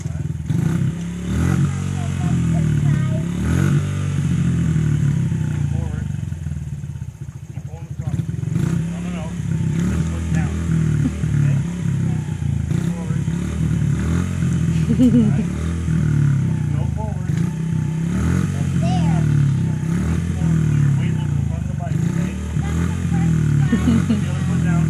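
Motorcycle engine held on the throttle: a loud, continuous, rough low rumble with slight rises and dips in revs lasting throughout, with people talking over it.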